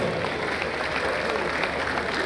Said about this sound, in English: please can you jam your hands together for yourself? Clap, clap, clap.